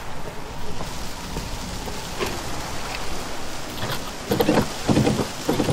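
A thunderstorm in the VR game Westworld Awakening: steady rain hisses on surfaces throughout, with rumbling thunder and heavier bursts of drops swelling toward the end, with no voices.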